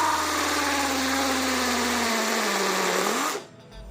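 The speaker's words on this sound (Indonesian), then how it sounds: "Fitur impact-nya bekerja ya dengan baik, tetapi untuk tenaganya sudah pasti nggak akan sanggup untuk mengebor paving block seperti ini" A cheap cordless hammer impact drill, built like a DeWalt, runs with an 8 mm bit against a paving block, giving a loud, steady high whine with a rattling buzz that slows slightly before it stops abruptly.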